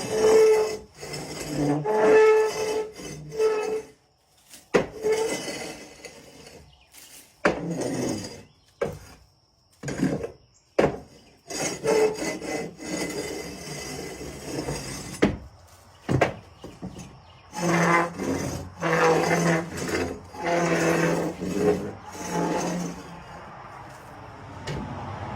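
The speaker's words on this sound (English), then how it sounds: "y'all don't want to see me scrape the paint, the whole thing off" Old paint is scraped off a wooden porch piece in bursts of rasping, grating strokes, some rapid and close, with short pauses between runs and faint background noise.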